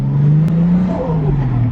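A Toyota Chaser's 1JZ engine revs up close and loud, a deep rising and falling drone of throttle over about two seconds with no talk.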